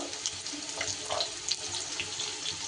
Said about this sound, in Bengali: তেল গরম হলে তেলের মধ্যে দিয়ে দিলাম কেটে রাখা আলু